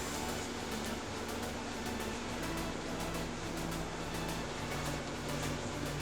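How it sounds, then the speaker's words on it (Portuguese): A steady, even blowing whir with a low motor hum from a hair dryer drying acrylic paint runs unbroken throughout. "Então o secador de cabelo ele ajuda bastante."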